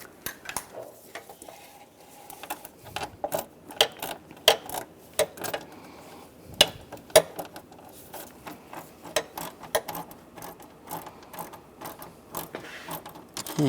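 Bolts being tightened on the radiator cooling fan assembly of a 1998-2010 Volkswagen Beetle: a steady run of close, sharp metallic clicks and ratcheting taps with short pauses, no voices.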